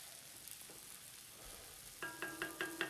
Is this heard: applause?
no